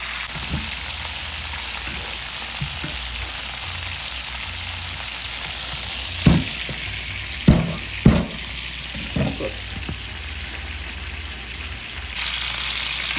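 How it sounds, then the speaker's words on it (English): Chicken pieces for Jamaican fricassee fry in a pot with a steady loud sizzle and crackle, broken by a few clanks and scrapes as the pieces are turned. "You have to keep turning and make sure they get even fry around it."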